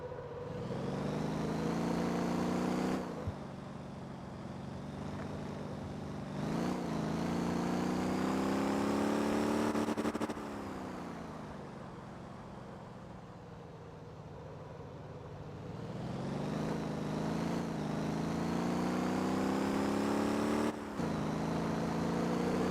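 In the Motor Town driving game, a car engine drones through repeated rising revs and abrupt gear-change breaks, then falls away as the car slows for braking before climbing again; quiet and continuous, with no speech.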